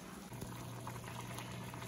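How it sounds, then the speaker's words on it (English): Eggs boiling in water in a pasta pot, a faint, steady bubbling and rolling simmer heard up close with no talk. "They're still boiling."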